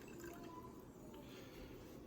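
Annatto coloring poured into milk for homemade cheddar, a faint, quiet liquid trickle and dripping lasting a couple of seconds.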